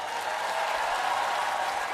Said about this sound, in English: I have to take every applause I can get